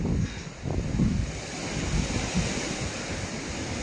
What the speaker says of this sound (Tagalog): Pati lakas ng hangin.